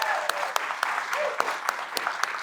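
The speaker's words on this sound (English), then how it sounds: "Give those a round of applause as well" Applause from a crowd at a live Cleveland event, honoring unveiled works for the city; steady moderate clapping with sharper individual claps standing out, continuous through the moment.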